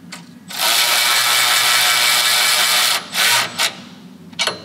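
A ratchet tightens a 13 mm bolt on the bash plate of a JB74 Suzuki Jimny, with one long run of rapid clicking followed by a few short bursts, close and clear.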